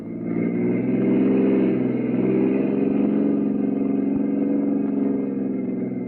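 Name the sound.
car engine driving, radio drama effect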